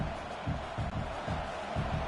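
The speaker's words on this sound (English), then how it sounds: "It's early, but this crowd is fired up. Listen to this noise here." A stadium crowd roars and cheers in the College Football 26 video game during an Ohio State vs Michigan matchup, a steady, dense wash of noise with slight swells and no clear talk.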